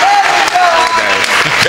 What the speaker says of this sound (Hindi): अच्छा लगा हो तो जोरदार ताली बजाइए।